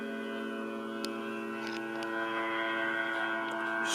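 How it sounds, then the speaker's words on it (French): Foghorn tone played back from a DY-SV5W sound module through a small amplifier, a steady sustained horn with stacked harmonics holding for several seconds at moderate level, a few faint clicks along the way and no voices. "C'est une corne de brume."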